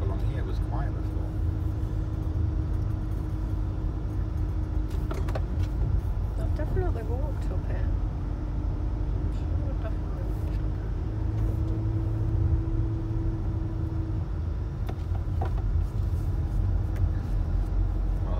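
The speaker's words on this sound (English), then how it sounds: "now all these cars are built up along here." Idling and creeping cars queued along a steep road, heard as a steady low engine rumble close by, with faint voices and scattered clicks over the traffic.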